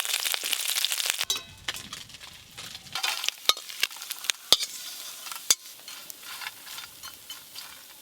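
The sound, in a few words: small fish frying in mustard oil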